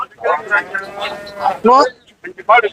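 Cattle at a busy livestock market in Chinapuram, where calves and cows are sold, let out several loud, drawn-out moos in quick succession, close by, with a faint murmur of people behind.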